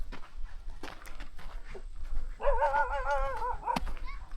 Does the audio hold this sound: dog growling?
yes